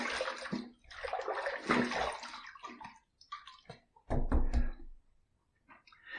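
Running water rinses a Rockwell T2 adjustable safety razor mid-shave, a steady splashing stream broken by a couple of brief pauses and a louder gush near the end, close and alone.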